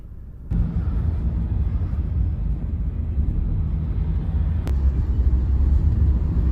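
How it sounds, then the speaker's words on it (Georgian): Steady engine rumble and road noise from inside a taxi moving through Yerevan, a continuous low drone with no talk and a single brief click partway through. "ტაქსით მივდივარ, იმიტომ რომ მეტრო იქ არ მიდის"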